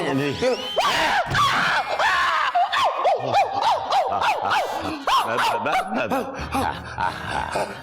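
A man imitates a dog with his voice, letting out a long run of loud, close yelps, barks and whimpering howls, almost without pause.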